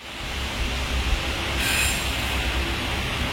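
An Indian passenger train runs on its rails with a steady, loud rumble and wheel noise from inside the carriage, continuous throughout without any speech.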